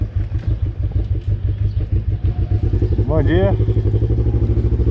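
A Honda CB500 motorcycle fitted with a replacement exhaust runs close by with a pulsing, throbbing engine beat that gets louder and quicker as it is revved, while someone speaks briefly over it.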